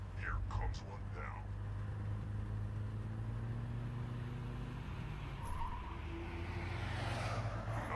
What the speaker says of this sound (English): Listen for approaching cars, hear which side they're coming from, and hold to the opposite side.